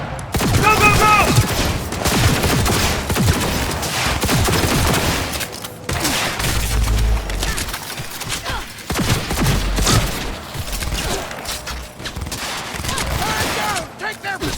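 Heavy gunfire in the video game Cyberpunk 2077 during a combat mission: continuous rapid bursts of automatic weapons firing throughout, dense and close, with shouted voices over the shooting.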